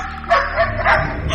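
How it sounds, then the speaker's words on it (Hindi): A dog barks nearby, two or three short loud yips and woofs in quick succession, with a faint whimpering tone. "और घंटों बैठ के भौंकता।"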